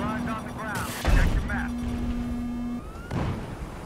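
Gunfire rattles in a combat video game near a helicopter, short bursts of shots cracking under a voice and game tones, moderately loud with a sharp burst near the middle.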